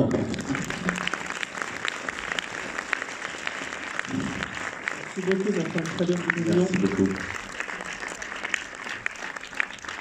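A cinema audience at an avant-première screening of the film Animal in Orléans applauds its director, a steady broadband patter of many hands filling the room while someone speaks over it.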